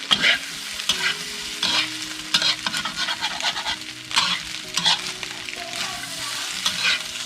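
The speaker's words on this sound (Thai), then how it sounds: "ถ้าชอบสุกมากก็ ผัดนานมากครับท่านผู้ชม" Carrots being stir-fried for Shan-style yellow noodles, a steady close sizzle with repeated scraping and stirring strokes of a utensil against the pan, no talking.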